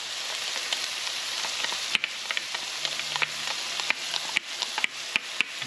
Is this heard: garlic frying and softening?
yes